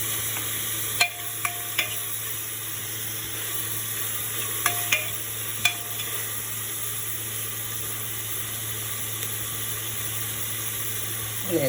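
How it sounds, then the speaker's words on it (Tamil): Gentle, steady sizzling from a pan of sautéing onion and tomato continues throughout, with a few faint clinks of a utensil against metal. "வெங்காயம், தக்காளி போட்டு அதையும் நம்ம வதக்கிக்கலாம்."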